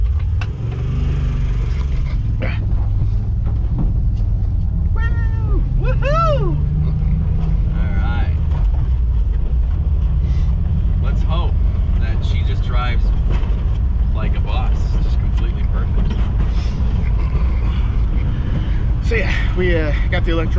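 A Volkswagen Vanagon fitted with a Subaru engine idles, a steady low rumble running throughout, with people talking over it.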